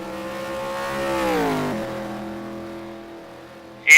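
Race cars in a racing video game whine past, one engine tone rising and then sliding down as it goes by. A quieter, steadier drone follows, and a sharp burst cuts in at the very end.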